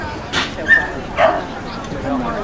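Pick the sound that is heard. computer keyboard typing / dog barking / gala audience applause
dog barking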